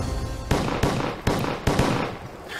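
Gunshots fired on the set of a TV drama during filming, with four or five sharp bangs cracking at irregular intervals over a steady, noisy background.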